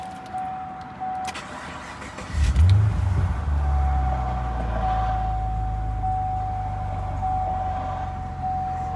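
A 2010 Chevrolet Camaro engine cranks over and catches at the start, then settles into a steady, rumbling idle that carries on alone, close and fairly loud.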